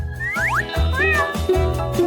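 A cartoon cat meows repeatedly on a TV show about cats, a series of bright, rising and falling meows over a thumping rhythmic backing, loud and close.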